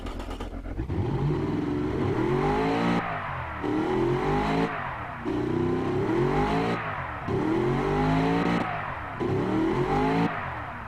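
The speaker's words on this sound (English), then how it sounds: "not a terribly bad sounding engine" A 430-horsepower offroader engine in an Automation/BeamNG Drive build revs repeatedly, with about five sustained rising bursts separated by brief drops, loud and close with no talk.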